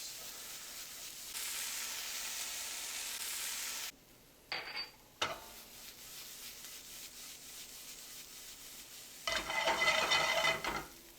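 Onions and garlic sizzle and rustle as they are tossed in a pan, with a broad hiss for the first few seconds, a brief pause and scrape, then a quieter stretch before a louder sizzling burst near the end.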